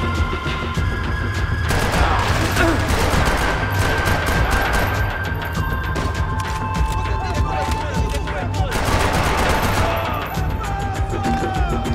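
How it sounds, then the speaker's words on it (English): Heavy, sustained gunfire from Max Payne 3, with rapid automatic bursts and shots layered into a dense, loud barrage lasting the whole stretch, with a voice speaking over it. "This might be a good time to start shooting."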